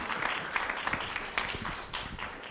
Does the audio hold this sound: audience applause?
yes